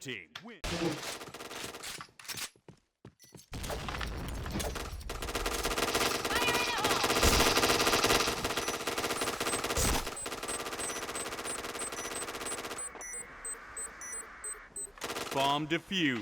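Gunfire in the online shooter Point Blank, sustained bursts of automatic weapon fire running through most of the stretch, loud and continuous, with brief gaps and game effects near the end.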